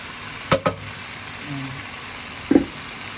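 Chicken frying in a pan with sayote, a steady low sizzle with a few sharp bursts of louder sizzling and clatter as pieces go in or get stirred, close up.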